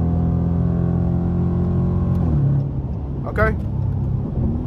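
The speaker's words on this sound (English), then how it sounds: "Let me downshift now. I'm gonna downshift again." Car engine droning steadily with a low rumble while the driver downshifts with paddle shifters; the tone drops partway through, followed by a brief rev blip, and a short spoken word is heard.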